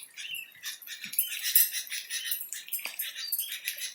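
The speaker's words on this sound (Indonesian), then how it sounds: "yang nggak stabil ini suara burung-burung ini, kicauan burung ini nggak stabil itu" Small birds chirping and twittering in busy, overlapping bursts after heavy rain and strong wind in Ponorogo, moderately near with no talk.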